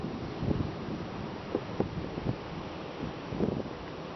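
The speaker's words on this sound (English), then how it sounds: "Really windy." Steady strong wind buffeting the microphone outdoors on a hilltop on a windy April hiking day in Virginia and West Virginia, a continuous roar with a few gustier bursts.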